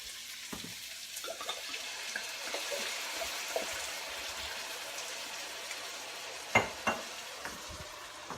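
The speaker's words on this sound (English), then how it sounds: "Okay, my spices have cooked in the meat for about 2 minutes, and now it's time to add the red wine." Red wine is poured into a pan of sizzling ground meat and spices for a bolognese, giving a steady hiss of frying with soft stirring scrapes and a couple of louder splashy bursts near the end.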